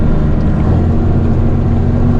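An old tractor engine roars loud and close in a dense, steady low rumble, held at high throttle without pause.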